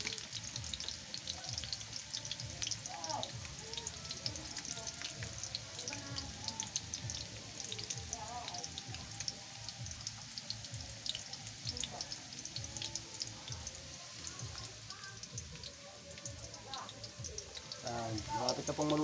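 Potatoes and carrots fry in a pan with continuous crackling sizzle and occasional stirring scrapes, fairly quiet and close, while a voice talks intermittently over the cooking.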